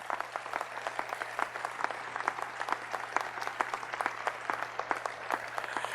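Audience at a 2021 Memorial Day ceremony in Roswell applauding steadily, a dense patter of many hands clapping at moderate distance, even and sustained throughout, with a low hum beneath.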